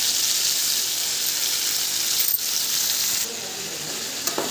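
Long beans go into potatoes frying in a pan, and a loud, steady hiss and sizzle runs throughout, dropping a little near the end, with a faint clink or two.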